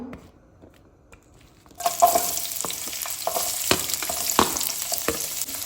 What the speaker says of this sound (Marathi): हें तेल मातशें तापलें की ना सगळ्यात पयलीं हांव हितून घालता कांदो